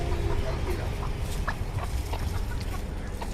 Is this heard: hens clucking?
yes